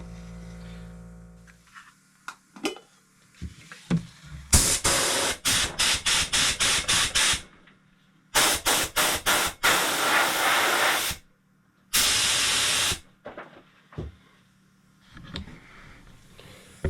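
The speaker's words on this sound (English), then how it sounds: "So I'm spraying this out at 25 psi." A spray gun applying clear coat at 25 psi, loud hissing bursts in quick pulsed passes and longer continuous sprays, separated by quiet pauses and small handling clicks.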